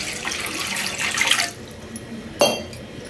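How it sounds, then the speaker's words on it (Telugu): Water is poured into a pot holding a little over half a kilo of jaggery to make syrup: a close, steady splashing pour lasting over a second, then quiet and a single sharp clink against the pot. "బెల్లం వేసేసి కొద్దిగా మనము ఇందులో నీళ్ళు వేసేసుకుందాము"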